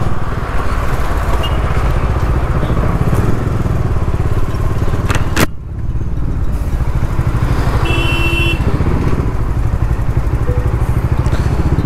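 A Bajaj Dominar 400 motorcycle ridden through slow traffic on a road under construction, its engine droning loud and steady with wind buffeting, a sharp thump around the middle and passing vehicle noise.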